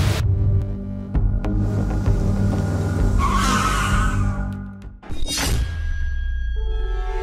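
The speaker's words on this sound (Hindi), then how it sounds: "भैया आपने यहाँ पे गाड़ी क्यों रोक ली?" A car brakes and skids to a stop on a road through a forest, tires squealing loudly and close for several seconds before a final sharp screech and settling rumble of the engine.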